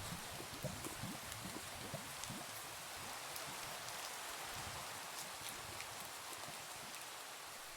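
Steady, even rain pours across a video game landscape near a lava source, a soft broadband hiss with scattered drops, constant and moderately faint throughout with no talking.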